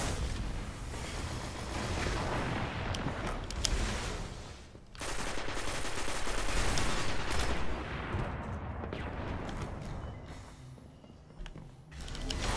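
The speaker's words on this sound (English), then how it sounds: "There are quite a few people actually using the auto rifles in here right now." Competitive Destiny Crucible match on PS4 with auto rifles and hand cannons firing: dense, nearly continuous bursts of game gunfire and blasts, loud throughout with brief lulls around five and twelve seconds, and no talking.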